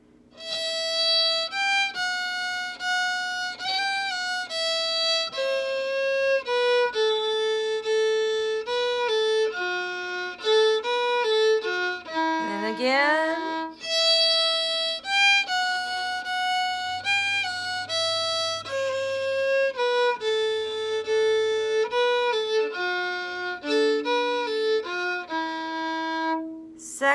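Solo fiddle plays the first part of Cotton Eyed Joe twice, a lively bowed melody with steady, clear notes and a short sliding flourish in the middle.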